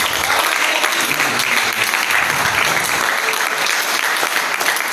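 A church congregation at a Sunday service applauds and cheers, a loud, dense stretch of steady clapping that fills the room and keeps going without a pause.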